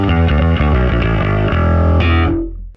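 P-style pickup and woofer channel blended on a bass guitar through a Line 6 Helix LT, a loud, full, gritty riff of quick notes that stops and rings briefly.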